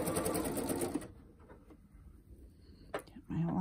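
Sewing machine stitching elastic ear loops onto a fabric mask, with a steady run of stitching for about a second, then quiet handling and a brief second burst near the end.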